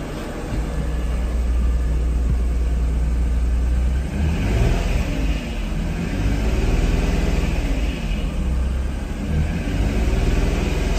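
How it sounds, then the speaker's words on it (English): Up close and loud, the engine of a 1991 Acura NSX is revved repeatedly, a sustained mechanical roar that swells and eases in waves over several seconds with no one talking. "Let's rev it up and see."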